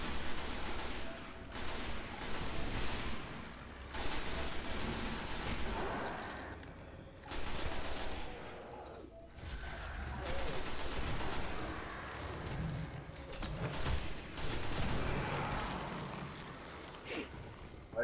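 Sustained crossfire of rapid gunshots and bursts in Destiny on PS4, during the Devil's Lair strike on Earth, with dense overlapping volleys and booming impacts rolling on loudly and almost without pause for the whole stretch.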